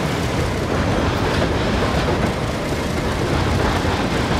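An HO scale model train with a leased SP&S locomotive rolls past a sawmill scene on a model timber railway, giving a steady close-up rumble with faint rhythmic clicking from the track and no talk.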